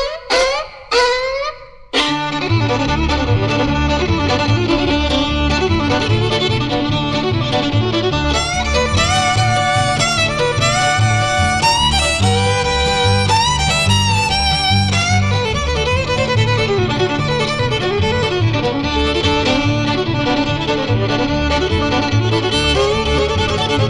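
Fiddle in a talking-blues tune, bowing a fast, continuous run of sliding, yelping notes meant to mimic a hound dog running through the woods, after a few short opening strokes; loud, close and steady throughout.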